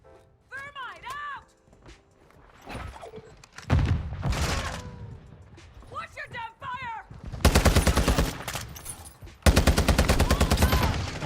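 Video game gunfire with snipers in play: sharp single shots early, then dense rapid bursts of automatic fire, loud and close, with voices talking in between.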